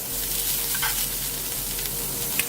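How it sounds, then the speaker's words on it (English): Butter sizzles in a preheated pan as a steady, close hiss with faint crackles and a few small pops, and no voice over it. "So I'm gonna go ahead and throw some butter in here."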